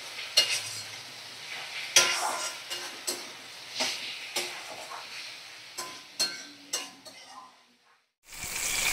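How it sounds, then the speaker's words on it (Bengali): Bhetki fish seasoned with salt and turmeric sizzles softly in a pan. A spatula stirs and clinks against the pan at uneven intervals, close but quiet, and no one talks. "দেখো এখন এই ভেটকি মাছ নুন হলুদ মাঝখানে ভাজা করে নিচ্ছি।"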